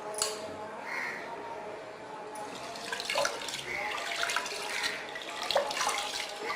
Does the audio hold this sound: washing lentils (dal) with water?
yes